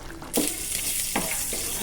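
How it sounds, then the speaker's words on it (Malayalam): Mustard seeds tempering in hot oil, giving a close continuous sizzle with a few sharp spluttering bursts and pops. "ഇനി നമുക്കതിനെ കടുവറക്കാം"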